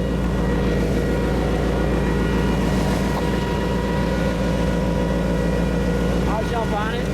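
A 2009 Brimstone quadracycle's engine drones loudly and steadily as it is driven. The constant rumble dominates throughout, with a brief voice near the end.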